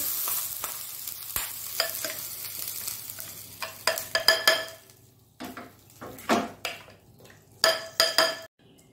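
Tempering spices sizzling in a frying pan under repeated scraping and stirring strokes, with bursts of metallic clinks from a spoon against the pan and quieter gaps in between.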